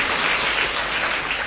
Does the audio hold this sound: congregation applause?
yes